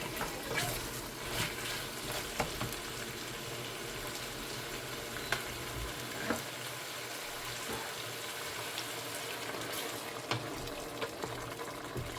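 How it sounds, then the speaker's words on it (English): Hot water pours steadily into a pot of Guyanese beef and cowheel pepperpot, a soft continuous rush with faint sizzling and small clinks, fairly quiet and without talk. "I'm gonna go ahead now and add some water, some hot water."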